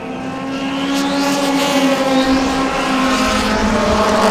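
Sport compact race cars howl past on an oval track on opening night, several engines droning together with rising and falling pitch as they run side by side into a turn, loud and steady.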